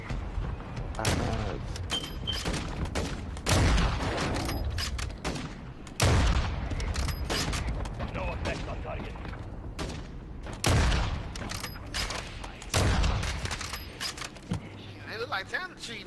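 Video game gunfire crackles in repeated bursts and sharp shots throughout a battle-royale match, mixed with in-game effects while players talk excitedly over it.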